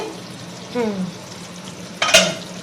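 Spice paste fries in a pan with a steady close sizzle while being stirred, with a brief voice-like rise early and a sharp spatula scrape and clatter near the end.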